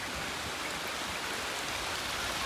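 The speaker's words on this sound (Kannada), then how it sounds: "ಸಖತ್ ಮಳೆ." Heavy rain pours down in a dense, even hiss of water, with runoff streaming nearby, steady and moderately loud with no talking.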